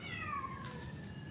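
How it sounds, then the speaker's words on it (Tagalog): Several cats meow in a cemetery in Trece Martires, Cavite, with a drawn-out, falling cry standing out clearly over steady background noise, and no talking. "May mga pusa."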